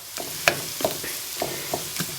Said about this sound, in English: Now, here that's sizzling a bit.